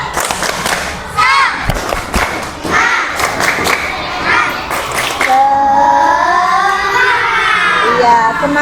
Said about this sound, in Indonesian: Kelompok 1, tepuk semangat.